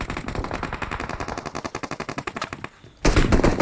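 Automatic gunfire from a PUBG firefight rattles in rapid, loud bursts, a fast rhythmic stream that briefly drops out, then resumes dense and heavy.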